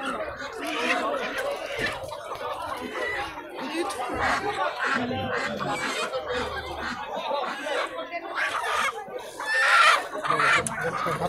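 Chickens clucking and chattering at a busy poultry market in Bazar-Korgon, many birds close by with bursts of cackling under murmuring people and market bustle throughout.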